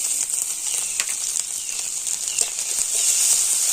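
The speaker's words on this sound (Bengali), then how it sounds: "আর এবার ওই তেলের মধ্যে দিয়ে দেবো গোটা জিরে দিয়ে দেব আদা" Whole cumin seeds and ginger sizzling in hot oil, a bright, continuous crackling hiss with scattered pops that grows a little louder toward the end, close by.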